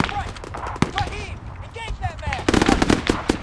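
Bursts of rifle and machine-gun fire in the military shooter Arma 3: sharp, uneven cracks up close, growing denser and louder toward the end, with a voice partly heard beneath.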